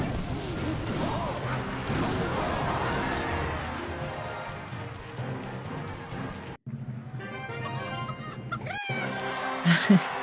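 The chicken emote in Clash Royale clucks and squawks over busy game music and battle crashes, followed by a short sharp cluck near the end.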